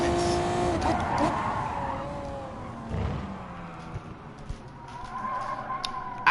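Racing game car at Fuji Speedway in a GT championship round, its engine whining through shifting tones as the tires squeal under braking. The sound stays close and steady, with a sharp bump at the end.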